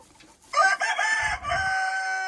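Young laying hens call loudly and continuously with harmonic clucking tones, starting after a brief quiet moment, with low farmyard rumble beneath.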